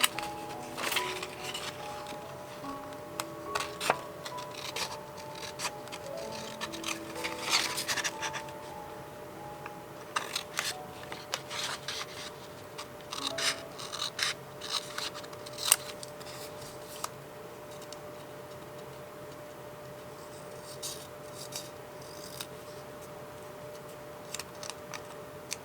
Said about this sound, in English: I will fussy cut this wonderful little stamp